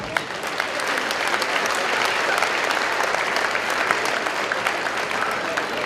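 An audience at a junior wrestling event gives scholarship winners a round of applause, a steady, loud wash of many hands clapping from start to finish.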